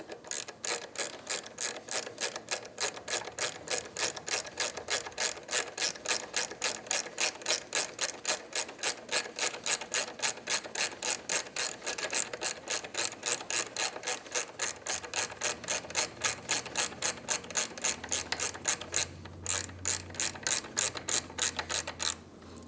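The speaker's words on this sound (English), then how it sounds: "12mm wrench" A 12mm ratchet wrench clicks rapidly and evenly while tightening an exhaust bolt on a Triumph Speed Twin 1200 motorcycle, a long run of close, crisp ratcheting with a short pause near the end.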